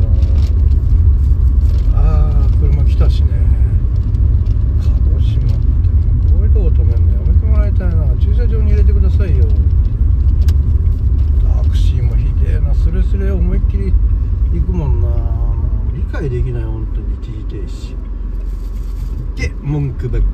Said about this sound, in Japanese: あー車来たしね